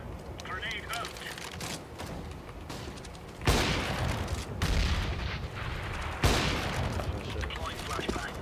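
Counter-Strike gameplay fills with bursts of gunfire and sudden loud grenade blasts, busy and dense throughout, while a player talks over the action.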